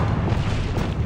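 A Bombarda blast spell in Hogwarts Legacy goes off as a single loud, deep boom that fills the short moment with a heavy low rumble.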